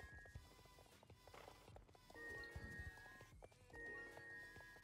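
A horse in the video game Star Stable whinnies and snorts over steady hoofbeats, with tonal game music and background sound running throughout; moderately loud, no talk.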